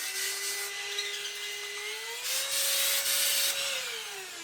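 A Beldray BEL01347BMFOB vacuum cleaner running steadily close by, a loud whine whose pitch rises midway as suction changes, then drops again, with no talking over it.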